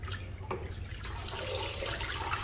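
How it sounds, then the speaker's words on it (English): Tap water runs steadily into an O-Cedar spin mop bucket as a mop is wetted, a close, continuous splashing hiss with low gurgling underneath. "we're going to get the mop wet with water here"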